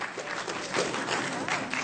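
A brief burst of audience applause at a city council transit debate, a dense wash of clapping that swells slightly midway and continues to the end.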